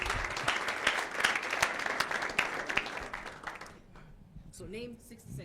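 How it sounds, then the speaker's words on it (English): An audience claps steadily for several seconds, dense applause that fades out as a voice begins speaking at the end. "let's give them a round of applause."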